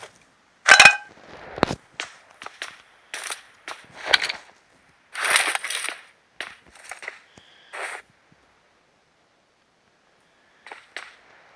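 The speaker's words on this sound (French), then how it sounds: "Plein de balles de mitraillette." Rapid bursts of video game machine gun fire crackle in short clusters through the first eight seconds, loud and close, then fall silent before one faint final burst near the end.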